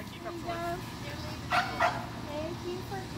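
A little dog gives two quick, sharp yips at home under a steady murmur of human voices, with softer whimpering tones around them.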